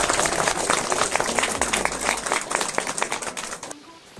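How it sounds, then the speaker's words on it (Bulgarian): Loud, dense applause from a crowd at a school exhibition event honoring a chef, clattering continuously before thinning out and stopping abruptly near the end. "Силни аплодисменти!"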